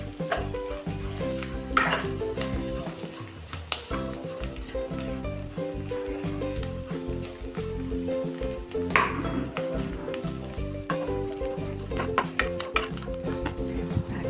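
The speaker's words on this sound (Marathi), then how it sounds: "हा ठेचा आपण तेलात व्यवस्थित परतून घेऊया।" Green chili thecha sautéing in hot oil, a steady close sizzle and fry with scattered spatula scrapes and clinks against the pan, running continuously throughout without any voices.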